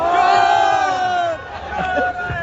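A crowd at a Nawaz Sharif rally chants political slogans in loud unison, with sustained shouted vowels followed by scattered cries.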